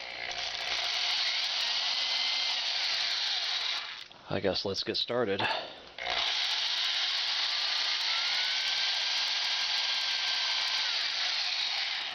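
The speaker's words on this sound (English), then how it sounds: "I'll have to drill a hole in the rotor and the stator" An electric drill bores a hole through the rotor and stator of a homemade high-voltage tunable capacitor, giving a steady grinding whine with slowly shifting pitch. It stops briefly while someone speaks, then starts again.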